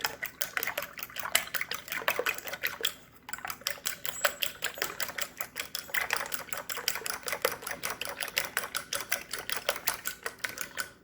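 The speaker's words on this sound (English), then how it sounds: "Then you just want to break the yolks, start whisking up the egg." Eggs for an omelet are whisked in a container with fast, even tapping strokes that stop briefly and then resume steadily.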